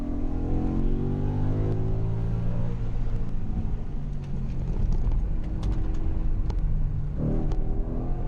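A manual Audi RS4 B7 with its 4.2 V8 drives past, engine droning and rising in pitch through a gear change, with a second rev climb near the end, loud and steady throughout.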